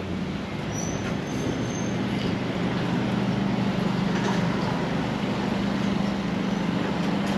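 Train at a Long Island Rail Road station on Bell Blvd in Queens, heard as a steady low rumble of rail cars with faint high wheel squeals, fairly distant, with no talk.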